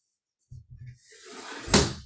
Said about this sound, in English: let me close the window